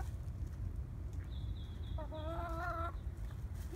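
Hens in a backyard chicken quarantine pen give a few close, drawn-out clucking calls over steady low outdoor rumble, with no one talking.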